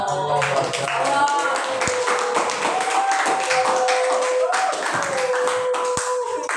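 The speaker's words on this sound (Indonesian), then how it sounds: "Ya kasih tepuk tangan." A group of students in a classroom claps in a quick burst of scattered hand claps while voices talk over them.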